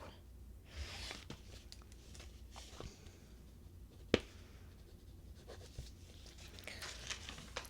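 Pen scratching on paper while jotting down body measurements in a quiet lingerie boutique setting, soft close-up writing strokes with a single sharper tap partway through.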